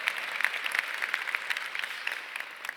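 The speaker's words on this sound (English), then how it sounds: "Yes, you're clapping, it's okay." Applause from a breakfast awards audience, a dense, even wash of many hands clapping that holds steady for a few seconds with no talk over it.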